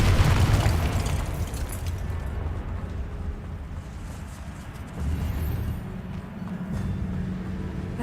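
A booming fire-spell explosion, Confringo, cast in the game Hogwarts Legacy: a loud burst at the start followed by rumbling decay and a second swell of low roar.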